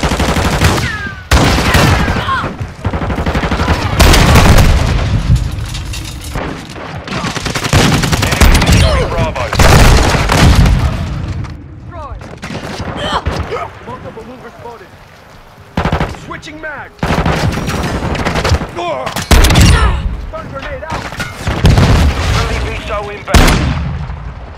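Dense, loud gunfire in Call of Duty: Modern Warfare II, rapid automatic bursts and booming blasts overlapping almost without pause, with shouted combat callouts mixed in.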